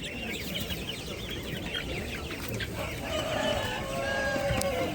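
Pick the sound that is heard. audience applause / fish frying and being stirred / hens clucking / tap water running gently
hens clucking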